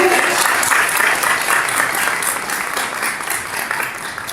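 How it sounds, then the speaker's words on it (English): An audience at a global leadership seminar gives the speakers warm applause, a thick, continuous wash of many hands clapping that holds steady and eases slightly toward the close. "we're going to give an applause to our wonderful speakers."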